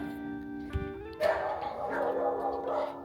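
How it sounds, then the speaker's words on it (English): Several neighborhood dogs barking outside a house in Mexico, loud close yips and barks that overlap, with a voice talking over them. "You have a lot of dogs here"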